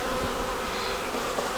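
A bee buzzes close by at an open hive, its steady insect drone filling the short moment without any voices.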